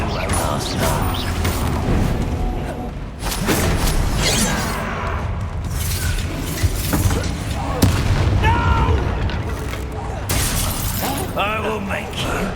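Confringo fire-blast spell in Hogwarts Legacy battle, booming impacts and crackling bursts amid continuous combat clatter, with voices speaking over the fight.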